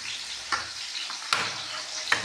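Oil sizzles steadily in a pan while a tadka is tempered for chana dal, with a few sharp spits and stirs punctuating the continuous frying hiss, close by and with no talk.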